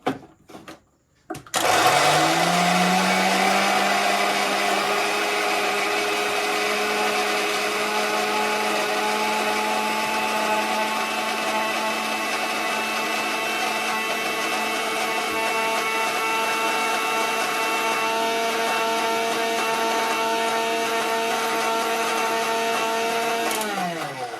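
An electric blender or mixer grinder spins up and grinds boiled corn into a paste, giving a loud, steady, high-pitched whine that runs unbroken for over twenty seconds before winding down.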